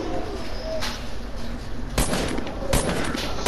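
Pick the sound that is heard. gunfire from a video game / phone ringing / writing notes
gunfire from a video game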